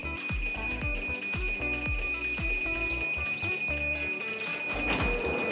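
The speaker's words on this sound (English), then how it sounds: "It's going to go through that series of flashing and beeps" A Chamberlain RJO70 side-mount garage door opener runs its warning sequence before closing: a rapid series of evenly spaced beeps with a steady high tone behind them, loud and close, with no speech.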